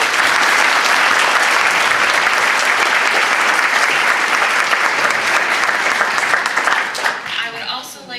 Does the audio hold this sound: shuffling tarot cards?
no